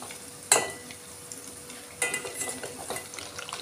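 A spoon stirs melting butter cream in a pot on the stove as it cooks down into ghee, giving a soft steady sizzle with a sharp utensil clink near the start and more scraping and clatter later on.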